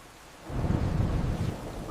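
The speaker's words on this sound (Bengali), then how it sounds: "এত বৃষ্টি, এত পানি, আমাদের গ্রাম তো ডুবে যাবে।" A thunderstorm with heavy rain: a deep, rolling thunder rumble swells after a quiet start and lasts over a steady rain hiss.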